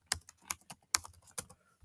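Quick bursts of typing on a computer keyboard, about eight sharp key clicks in an uneven rhythm, close and fairly quiet with brief gaps between strokes and no voices.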